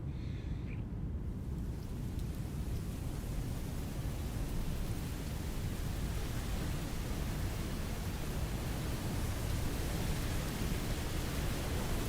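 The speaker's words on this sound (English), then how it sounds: "Let's check out the thunder." Distant thunder ambience in a video game demo, a steady broadband low rumble that stays constant and fairly loud throughout, with no talk.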